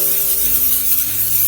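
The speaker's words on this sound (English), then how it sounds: "lightly spray it with cooking spray" Cooking spray hisses steadily onto bread dough sitting in a bowl, one continuous close spray lasting over a second and ending abruptly, with no talking.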